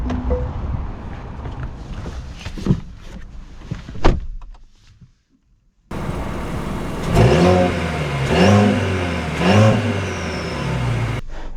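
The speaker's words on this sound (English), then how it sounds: "Let's see how it drives." 2024 Mercedes E-Class being driven, starting with interior clunks and knocks and a sharp thump, then a brief silence, then a steady engine hum that rises and falls in several surges of acceleration.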